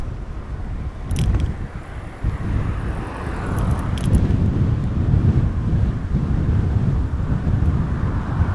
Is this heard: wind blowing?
yes